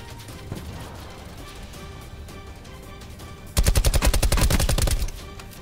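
Call of Duty Black Ops 4 Blackout battle royale gunfire: a sudden loud burst of rapid automatic shots, evenly spaced, over about a second and a half, following a stretch of quieter game ambience with distant pops.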